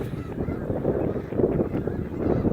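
Geese or ducks honking out on the water, a run of low, overlapping calls close by, with light wind on the microphone and no clear talking.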